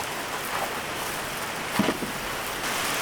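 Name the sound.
heavy rain falling at a campsite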